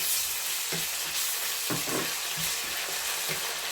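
Steady oil sizzle of ginger-garlic paste frying with onions and curry leaves in a pan, with occasional stirring scrapes and clinks, close and continuous, no voices.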